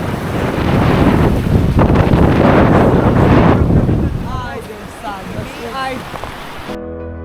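Strong wind gusting near a glacier in Patagonia, roaring loudly across the microphone for the first few seconds before easing off, with faint chirping and splashing sounds beneath it and no clear speech.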